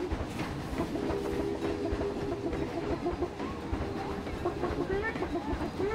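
Steam train running in the theme park game Planet Coaster, a steady rolling clatter with rhythmic clicks and a faint hiss, fairly loud and continuous throughout.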